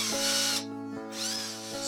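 A power drill whirs in two short bursts with a brief pause between, backing screws out of a lathe faceplate holding a walnut and spalted maple workpiece; close and fairly quiet.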